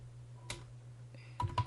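Quiet keystrokes on a computer keyboard come as a lone tap, then a quick burst of several clicks, over a low steady hum.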